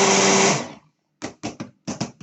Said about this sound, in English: I'm just gonna blend it out